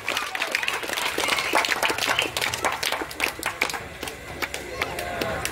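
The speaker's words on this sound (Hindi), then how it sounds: "ताली बजाते रहिए।" Crowd applause at a Jan Suraaj political rally in Raghunathpur, Bihar, a continuous dense wash of many hands clapping, fairly loud and sustained, with some voices underneath.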